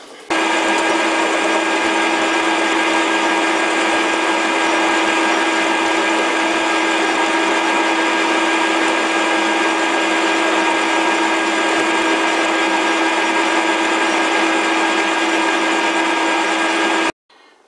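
A metal lathe fitted with a carbide insert bit turns and cuts an old tractor part, giving a loud, steady whine that holds unbroken for about seventeen seconds before cutting off abruptly.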